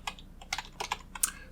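Keys on a computer keyboard are tapped in quick, uneven clicks, about eight presses in a second and a half, close and crisp with no voices.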